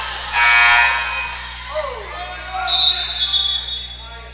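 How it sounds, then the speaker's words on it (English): A scoreboard buzzer at a girls' high school basketball game goes off by accident, a loud harsh blare over echoing gym crowd noise and sneaker squeaks, with voices talking in the background. "That's an inadvertent buzzer, I believe."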